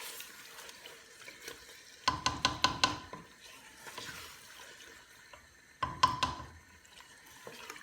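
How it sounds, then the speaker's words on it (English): Chicken pieces are stirred into curry masala in a pan over medium heat, with a soft, low sizzle under two bursts of rapid spoon clatter against the pan. The sound is close and quiet, and no one talks. "Okay, now my masala is ready, so I'm adding in my chicken."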